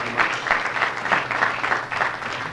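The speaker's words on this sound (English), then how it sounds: "Warm round of applause, please" An audience gives a warm round of applause, a steady, moderately loud patter of many hands clapping, with no talk over it.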